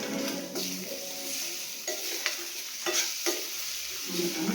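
Four eggs being stirred and mixed in a hot frying pan for egg palya, a steady sizzle broken by scraping spatula strokes against the pan, close and fairly loud with no talking.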